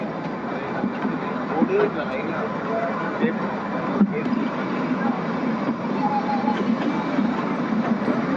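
A Kalka-Shimla toy train rolls along its narrow-gauge mountain line toward Shimla, giving a steady, moderately loud rumble of wheels on rail with faint clicks, and voices murmur now and then under the continuous running noise.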